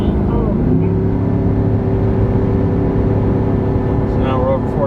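A 2018 Chevrolet Silverado 2500 with a 6.0 engine and an S&B intake cruises on a highway above 4,000 RPM, giving a loud, steady droning engine note heard from inside the cab, with a brief voice near the end.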